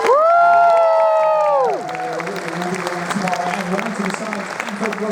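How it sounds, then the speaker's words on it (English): Audience at a Team RWBY convention panel at MegaCon Manchester breaking into applause and cheering, a loud whooping shout over clapping at first, then sustained clapping with scattered cheers as a voice speaks over the crowd. "one more time, ladies and gentlemen, keep a round of applause going"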